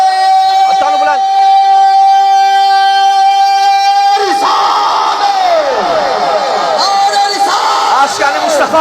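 Large crowd at a religious gathering roars a slogan in unison in reply to a leader's call, loud and echoing after a sustained line over a steady tone, with the massed voices swelling and repeating.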